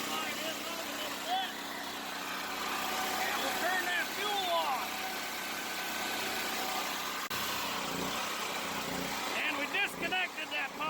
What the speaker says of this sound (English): you can hear the generator unloaded